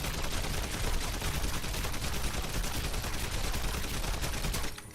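Rapid, dense video-game gunfire, a continuous loud volley of shots packed close together for several seconds before cutting off abruptly near the end.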